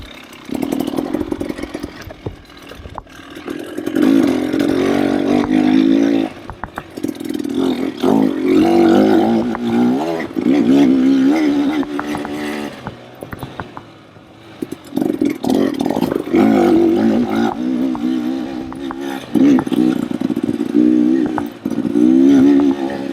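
A Beta dirt bike engine is ridden hard, its loud, close, buzzing note climbing and falling in repeated rev surges with brief dips in between.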